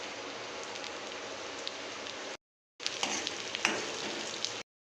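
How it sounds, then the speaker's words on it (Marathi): Onions and green chillies sizzle in hot oil that already holds mustard seeds, a dense, even frying hiss close by, cut off by a short silent gap before the sizzle resumes with a few brighter pops. "आता कांदे टाकून घेते मस्त तेलामध्ये. मिरच्या पण टाकून देते कांद्यांच्या."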